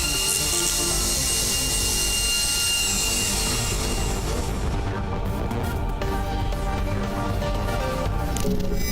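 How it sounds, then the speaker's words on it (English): Power drill in the video game STASIS, a continuous harsh grinding and whirring that runs steadily and loudly for several seconds with no talk over it. "This is a useful drill."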